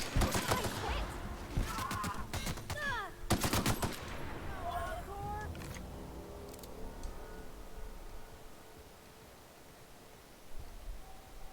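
Rapid bursts of gunfire from the video game The Outer Worlds, several dense volleys in the first five seconds, then chirping effects and a quieter ambient stretch.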